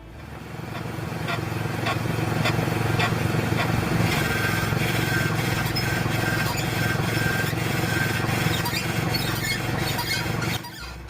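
A dry car suspension ball joint with no oil squeaks and groans in a fast, repetitive grinding rhythm over a steady mechanical rumble, loud and close for about ten seconds.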